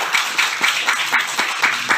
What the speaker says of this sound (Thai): ปรบมือให้ให้หน่อยนะครับ